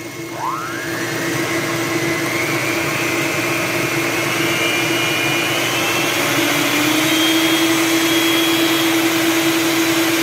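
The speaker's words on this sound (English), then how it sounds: "Now let's try this mixer." An electric kitchen mixer powered by a Monstar M300 portable solar generator's inverter spins up with a rising whine, then settles into a steady, loud motor hum and high-pitched drone with no talking.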